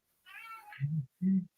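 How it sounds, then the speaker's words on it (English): A cross-breed Bengal cat meows nearby, first a long wavering high-pitched call, then two short lower meows in quick succession, heard clearly with no talking. "I can hear some meowing going on"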